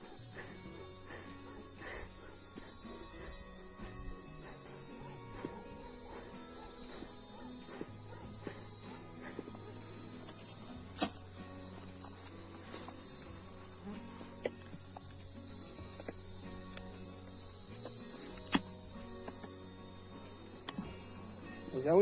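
A strong swarm of Africanized honeybees hums around an open hive, a continuous, dense buzzing drone that holds steady for the whole stretch, with occasional sharp clicks and close bees passing.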